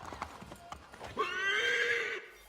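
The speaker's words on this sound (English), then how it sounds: "Well, I reared the horse when I meant to dismount" A horse in Assassin's Creed III rears and lets out a loud, drawn-out neigh after a few clip-clop hoofbeats, the whinny holding steady for about a second before cutting off.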